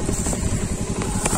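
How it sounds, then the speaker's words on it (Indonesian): A motorcycle rides along a mountain road to Gunung Tilu, Tegalbuleud, its engine putting out a close, steady, rumbling putter with a pulsing low beat throughout. "Gimana kan ini motor jalan begini sahabat,"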